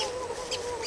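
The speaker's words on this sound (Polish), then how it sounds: "Tak, pełno indyków w ogóle mam." Turkeys in the video game Don't Starve gobbling and clucking in a short, dense burst of warbling bird calls, close and fairly loud, heard alone without talking.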